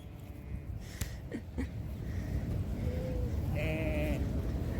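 Sheep bleat a few times, wavering calls rising near the end, over a steady outdoor hum and a couple of light knocks, on a farm with livestock guardian dogs.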